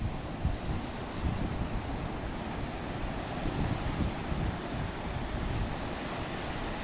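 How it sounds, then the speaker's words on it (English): Ocean waves break and wash steadily on a beach at Nahoon on a cold, windy day, a continuous moderate surf roar mixed with wind rumble. "These waves are pretty awesome."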